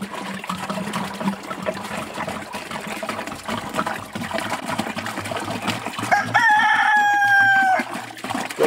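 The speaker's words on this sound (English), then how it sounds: "Look at the Icelandic chickens just hanging out." Icelandic chickens in a chicken tractor cluck softly against a trickle of water, then a rooster lets out one loud, drawn-out crow near the end.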